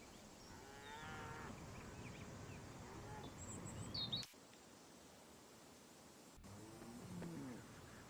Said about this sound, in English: Can you please explain us why your cows were walking across the motorway?